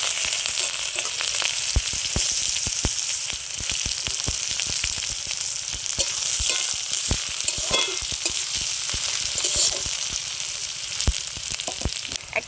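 Onion with whole cumin and whole garam masala frying in hot mustard oil, a loud, dense, continuous sizzle with rapid crackling pops close up.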